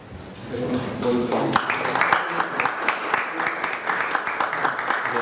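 After a gold Silla crown is presented to President Trump, a roomful of people breaks into sustained applause that swells and holds steady, with some voices mixed in at the start.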